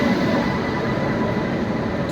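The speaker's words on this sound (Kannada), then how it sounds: "Train 7 and the train has arrived now." An Indian Railways train pulls into a station, a loud steady low rumble of wagons and wheels rolling past close by, with no voices.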